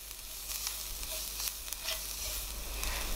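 Spice mix is stirred into softened onion and minced garlic in a pan for chilli colorado, a steady hissing sizzle with soft, repeated stirring scrapes and no voices.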